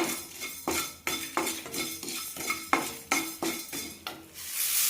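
Dry red chillies and tamarind are stirred in a metal kadai while roasting for a horse gram and curry leaf podi: about a dozen rhythmic, close scraping strokes of a spoon against the pan, with a faint sizzle and no talk.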